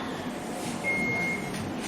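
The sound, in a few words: professional quiz buzzer being tested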